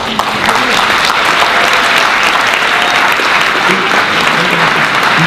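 At a round-table discussion on sharing water, an audience gives loud, dense applause that holds steady for several seconds, with a few faint voices murmuring beneath it.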